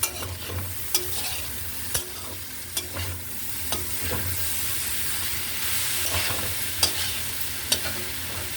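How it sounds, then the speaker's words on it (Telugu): Malabar spinach and tomato are stirred and fried in a pan, a soft continuous sizzle broken by regular scraping taps of the spoon about once a second, quiet and close. "బచ్చల కూర టమాటా వండుతున్నాను"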